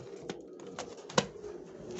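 Soft sounds from an aviary breeding pigeon, a few low coos and rustles close by, with one brief sharper note in a quiet room.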